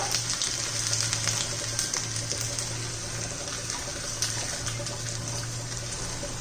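Crushed garlic and thin, long ginger slices fry in hot ghee, giving a continuous, soft, hissing sizzle with faint crackles and an even level throughout.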